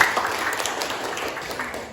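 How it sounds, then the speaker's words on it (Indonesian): Classroom applause from students during a lesson, fairly quiet and steady, fading slightly toward the end, with a faint murmur of voices under the clapping. "tepuk tangan coba buat kita"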